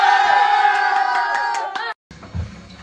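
A crowd of people in a home yells together loudly for about two seconds to make noise at a neighbor, the shout cutting off abruptly into brief silence followed by quieter background chatter.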